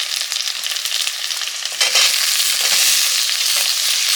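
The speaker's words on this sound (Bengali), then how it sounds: "আলুটা একটু ভাজা ভাজা হলো তারপর বেগুনটা দেবো" Potato pieces fry in mustard oil in a pan for a fish curry, a close, loud continuous sizzle that briefly swells as the contents are stirred, with no voices.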